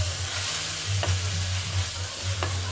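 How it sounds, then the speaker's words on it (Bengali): Ground turmeric, coriander and cumin masala is stirred in a hot pan for khichuri, a steady close sizzle broken by a couple of soft spoon scrapes over a low, constant hum, with no voices. "দিয়ে ভালো করে মশলাটাকে ফের মাখিয়ে নিতে হবে"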